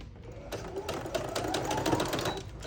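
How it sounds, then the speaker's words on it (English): A sewing machine runs a straight stitch to hold a fold down along a dress neckline, a close, steady rapid whirring hum that starts after a brief pause and continues to the end without speech. "So I'm sewing the fold down right at the edge to the left side."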